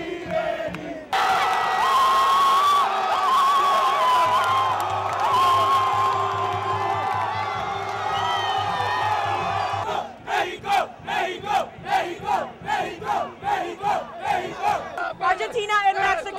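A dense, roaring crowd of football fans cheers and shouts at the 2010 World Cup match between Argentina and Mexico, a sustained loud wall of voices that breaks into rhythmic chanting bursts toward the end.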